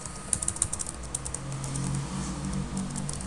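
Quick, irregular keystrokes on a computer keyboard, heard close up with a steady low hum underneath and no voices.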